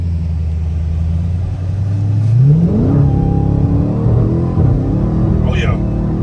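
A Dodge Hellcat's supercharged engine idles low, then revs hard with a rising whine and roar that holds high, loud and close, while people shout excitedly over it.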